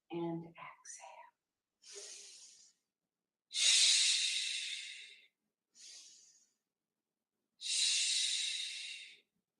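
Slow deliberate breaths during a yoga session, a short soft sound first and then several airy inhales and exhales in a measured rhythm, close and quiet with silent gaps between each breath.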